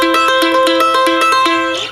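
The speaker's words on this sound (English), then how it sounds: "It's basically a backwards banjo roll on the mandolin" Close, bright bluegrass mandolin cross-picking, rolling through a quick even run of plucked notes like a backwards banjo roll, ringing steadily before tapering off at the end.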